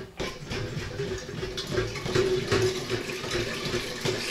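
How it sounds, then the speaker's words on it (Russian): Water running from a tap to fill a container at home, a steady close splashing rush with no talk. "Воды наберу."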